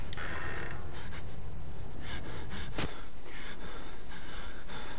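An enemy in the horror game Outlast breathes heavily: loud, close, ragged gasps and snorting breaths repeating unevenly throughout, with no speech.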